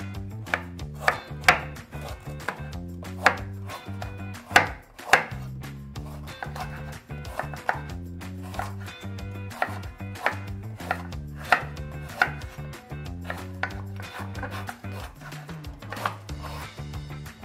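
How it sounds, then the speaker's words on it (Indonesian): Steady knife chopping of garlic and galangal on a cutting board, repeated sharp thuds in an irregular rhythm with short pauses, close and clear, no talking. "Kemudian kita akan memotong bawang putih dan lengkuasnya."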